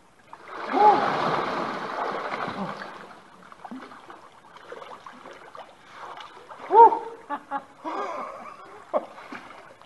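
A person swims in a cold mountain river, the lower Acheron, with water splashing and sloshing through most of the clip, loudest at the start and in brief bursts later, while someone talks and exclaims between the splashes.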